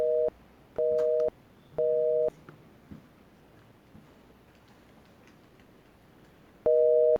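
Telephone call tone from a switched-off phone: four short, loud electronic beeps. Three come in quick succession, then a long quiet gap with faint room noise before the last beep.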